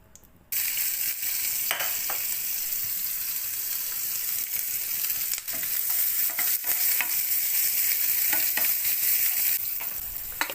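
A tempering sizzles in a little hot oil in the kitchen while spicy mutton chops are made. The frying hiss is steady and crackling, with occasional stirring scrapes and no voices.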